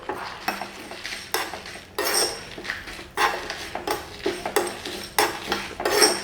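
Chilli chicken being stir-fried in a pan on low heat, with repeated scraping and clanking of a metal spatula against the pan in irregular bursts, close and fairly loud, with no talking.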